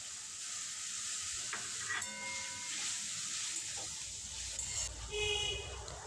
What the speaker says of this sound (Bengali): দিয়ে দিয়েছি পটল ভাজাটা। ভালোভাবে মিক্স করে নেব।